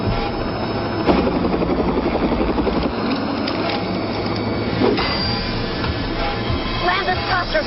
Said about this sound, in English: You land this helicopter